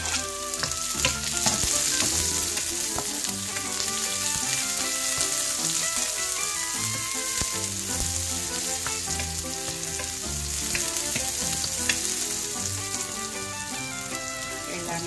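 Garlic and onion sizzling steadily in a pan for a pork, broccoli and bell pepper stir fry, a constant close hiss of frying with occasional stirring clatter, no talk.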